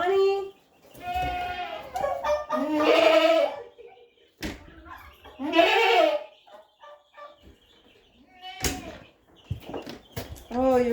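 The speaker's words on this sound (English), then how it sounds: "You're a bad goat." Farm goat bleating loudly and repeatedly at close range, several drawn-out wavering calls spread across the stretch with short pauses between them.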